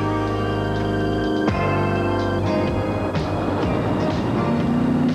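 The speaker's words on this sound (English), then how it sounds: "that noise you hear in the background is a circle track tradition warming up." Sprint cars warm up for the trophy dash at Memphis Motorsports Park, a steady wall of engine roar in the background with a few sharp bursts and no talking.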